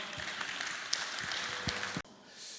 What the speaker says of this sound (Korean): 뜨거운 박수로 마무리하도록 하겠습니다